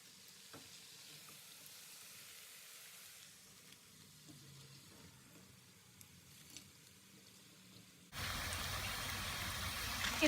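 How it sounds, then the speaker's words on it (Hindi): Cauliflower florets coated in gram flour batter fry in hot oil with a low, steady crackle, and a louder, fuller sizzle surges in near the end. "मैं गोभी को फ्राई कर रही हूँ"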